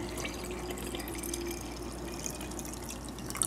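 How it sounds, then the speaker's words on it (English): Filtered water poured into a glass jar to make salt-water sole, a steady trickling, dripping pour heard close up with no talking. "So what I'm going to do next is fill it up with the water."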